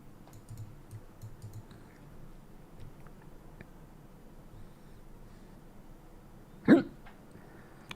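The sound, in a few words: hiccup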